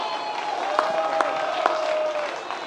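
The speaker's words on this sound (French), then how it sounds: "on peut l'applaudir" An audience at a rally in Amiens supporting the Goodyear workers claps together, with a few sharper claps standing out over a steady crowd murmur and a faint sustained tone.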